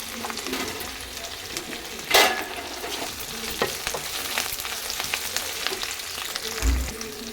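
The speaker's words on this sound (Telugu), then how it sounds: "ఈ ముక్కలు మగ్గే వరకు కలుపుతూ ఉండాలి." Capsicum pieces and curry leaves stir-fried in a pan for capsicum fry, with a steady close sizzle and occasional scrapes and clinks of the stirring spoon.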